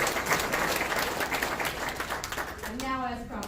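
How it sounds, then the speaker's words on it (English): Graduation audience at a learning center applauds in a steady patter of clapping, with a voice starting to speak near the end as the clapping fades. "So can we give them a round of applause?"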